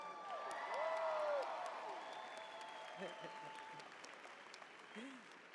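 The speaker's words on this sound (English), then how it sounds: "How about another round of applause for Stephen?" Steady applause with scattered whoops and cheers fills a hall at a Roosevelt University spring 2018 commencement, holding strong and then slowly tapering, with brief voices rising over it.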